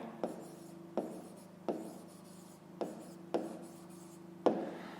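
A pen scratches across paper in a series of short strokes, each starting with a soft tap and fading into a faint rasp, recurring roughly every second at low volume and close by, with no talk over it.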